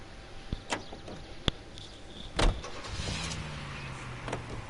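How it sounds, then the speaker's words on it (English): A car in the video game LA Noire makes sharp door clicks and thuds, a few knocks and a whirring motor sound before a low engine hum settles in. "So let's get in our car."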